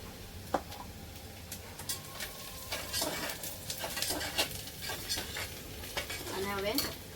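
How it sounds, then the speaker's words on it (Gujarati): Onions fry in oil with turmeric while a spoon stirs through the pan, giving a steady sizzle broken by scraping and clinks. The sounds are close and fairly soft throughout. "એ તો કાંદા હળદર બધું મસ્ત તેલમાં આમ ફ્રાય થઈ જાય"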